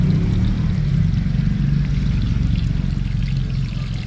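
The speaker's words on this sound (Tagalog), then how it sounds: "apawin na natin ang tubig" Water pours steadily and continuously into a potted calamansi plant, a full, close gushing wash with no break and no talking.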